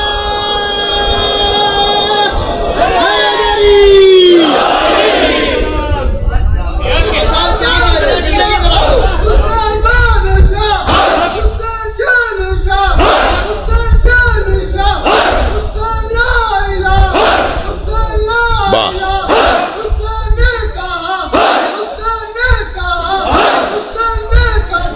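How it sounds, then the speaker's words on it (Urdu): Large congregation at a Shia religious gathering for the birth anniversary of Imam Hussain, voices chanting salawat blessings loudly in unison, a dense, sustained roar of many people with repeated rhythmic surges. "بلند تر صلوات پڑھیں۔"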